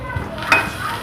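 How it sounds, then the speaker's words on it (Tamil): Chopped garlic sizzling in hot ghee in a pan, a steady crackling fry with a brief stir scrape, close up and with no speech. "பூண்டோட பச்சை வாடை போகிற வரைக்கும் நல்லா ஃப்ரை பண்ணிக்கோங்க."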